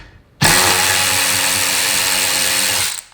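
A DeWalt cordless ratchet whirs loudly and steadily for about two and a half seconds as it loosens a bolt torqued to 40 foot-pounds, starting abruptly and cutting off cleanly.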